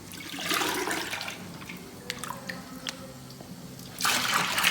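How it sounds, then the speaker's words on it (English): Berry juice drained into a separate vessel at a winery, a steady pouring, splashing liquid flow that fades midway and surges loudly again near the end, with no talking. "I'll drain the juice off these berries into a vessel by itself"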